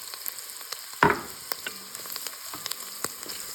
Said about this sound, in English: now that this is cooked a couple of minutes, we're going to add the fresh garlic